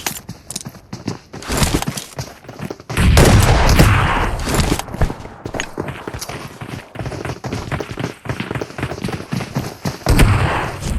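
Gunfire and blasts in the battle-royale game PUBG Mobile, including a thrown grenade exploding: rapid cracking shots throughout and a heavy, rumbling boom around the middle, loud and close.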